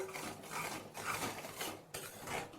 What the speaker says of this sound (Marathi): आता हा मसाला हलवून घेऊ